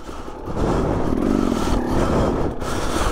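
A KTM 300 EXC two-stroke dirt bike ridden through woods, its engine buzzing and revving loudly up close and holding a steady drone over scraping and clattering from the trail.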